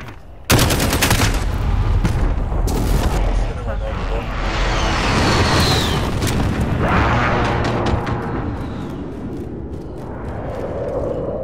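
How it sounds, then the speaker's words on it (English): In Call of Duty: Modern Warfare hardcore team deathmatch, an airstrike's heavy explosions roar and rumble continuously. Sharp gunfire cracks come early, and a voice speaks briefly over the din. "airstrike inbound"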